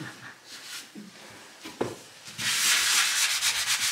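Sandpaper rubs against a wall during home renovation, with scattered scraping strokes that build into a sustained, louder rhythmic sanding rasp in the second half, close by.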